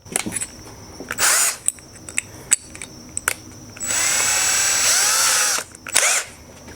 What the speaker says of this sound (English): we're gonna drill our hole for our switch